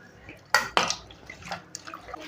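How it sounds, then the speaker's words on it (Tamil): Tomatoes are squeezed and mashed by hand in water for rasam, making wet squelching splashes: two sharp bursts early on, then softer intermittent sloshes, close up. "இந்த தக்காளியை போட்டு நல்லா பிசைஞ்சு விட்டுக்கலாம்"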